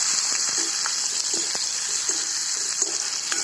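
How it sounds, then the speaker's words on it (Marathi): Onions roast in a pan for gravy with a steady, close sizzle and frying hiss, broken by light stirring clicks and scrapes at a loose irregular rhythm, and no talk. "आता हे कांदे भाजायले कांदे चांगले भाजत आले"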